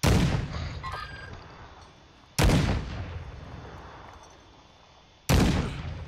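Booming gunshots in the Call of Duty video game: three heavy, loud single shots a few seconds apart, each followed by a long rolling echo that fades before the next.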